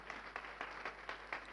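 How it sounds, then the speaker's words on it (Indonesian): Applause from a congregation at a church service honoring Bapa Yahweh, a light, fairly faint patter of clapping with a few brief bursts, no voices over it. "kasih tepuk tangan buat Bapa Yahweh yang dahsyat"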